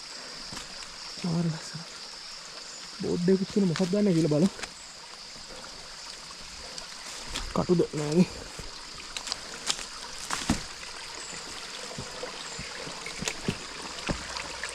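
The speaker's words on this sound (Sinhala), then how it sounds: "කිව්වා විතරයි තව වතුර පාර ලස්සන." A stream flows along a hiking trail near Handapan Ella Falls, giving a steady, close rushing wash that runs the whole time beneath a man's short spoken remarks.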